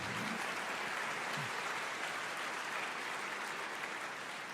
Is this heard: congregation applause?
yes